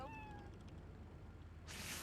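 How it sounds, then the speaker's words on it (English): A faint cat meows briefly in the video game GTA III, a short rising cry right at the start, followed by low background hum and a soft burst of noise at the end. "Rescue a cat out of that tree"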